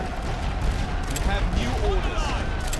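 Artillery fire in a WWI Western Front battle game, a continuous thundering barrage of booms and crackling volleys filling the whole stretch, with voices faintly audible beneath.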